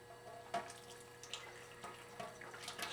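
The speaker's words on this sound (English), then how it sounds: "Again, just with the hot water." Hot water running from a tap while cleaning a vapor whip, a faint steady trickle with a few soft splashes and clinks against the stream.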